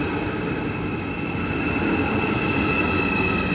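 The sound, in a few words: Intercity Express train 275 to Switzerland via Frankfurt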